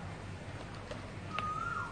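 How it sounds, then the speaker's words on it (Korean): Bird calls near a hotel pool in Pattaya, Thailand: a brief whistled chirp and a thin sustained call rise over low ambient hum, fairly faint and alone without talk. "새소리 같은데?"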